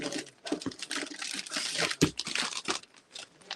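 Paper crinkling and rustling close up while vintage freshwater pearls are packed, a dense run of crisp crackles and tearing-like scratches with a sharper snap near the middle, no voices.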